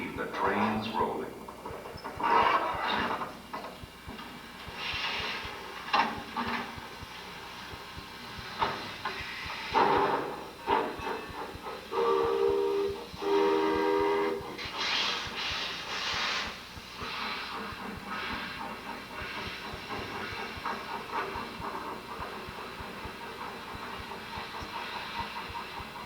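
A train rolls along the rails with a steady broadband rumble and hiss, and a brief tonal whistle rises around the middle, carried over continuous background noise.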